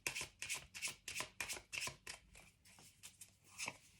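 Playing cards being shuffled during a tarot reading, a quick run of about a dozen crisp riffling bursts in a steady rhythm, close and fairly quiet with no voices.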